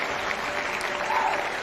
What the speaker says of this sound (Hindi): एक जोरदार ताली डीएक्सएन के लिए